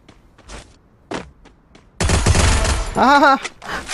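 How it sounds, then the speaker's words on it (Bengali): Silenced gunfire in a shooter video game, a few soft muffled shots followed by a dense loud burst of rapid fire and a brief tonal whine, close and prominent. "কোন দিকে ফায়ার করতেছে, সব সাইলেন্সার দিয়ে মারামারি করতেছে"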